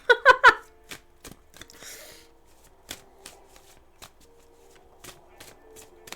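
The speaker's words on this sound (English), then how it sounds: "These cards are so ginormous that they can be a bit of a bitch to shuffle." A quick burst of riffling oversized playing cards, three sharp flutters, followed by scattered soft taps and handling clicks with faint background hum.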